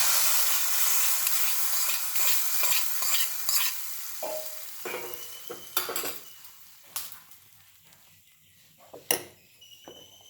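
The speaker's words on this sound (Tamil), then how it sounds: "தாளிச்சு கட்டிங்க." Spices for raw banana milk kootu are tempered with curry leaves in hot oil, giving a bright sizzle alongside stirring and sharp metallic clicks of a utensil against the pan. The sizzle fades while scattered clinks continue.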